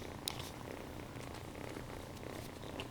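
A cat purrs steadily and softly at close range for the whole stretch, with a low continuous rumble and one faint click near the start.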